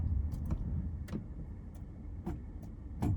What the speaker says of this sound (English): the underside of the car is squashing down the ridge of snow underneath